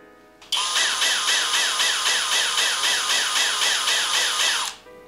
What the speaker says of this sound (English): that is what it sounds like for pulse mode